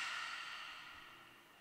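A slow, steady breath out during an exercise-ball workout cool-down, soft and airy, close to the microphone, with no talking over it.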